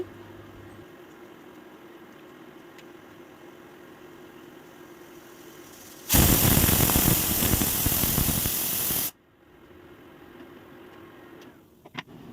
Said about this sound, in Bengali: এখন হচ্ছে যে এক্সট্রা গরমটা আসছে প্রেসার কুকারে সেটার সিটিটা উঠাই নিচ্ছি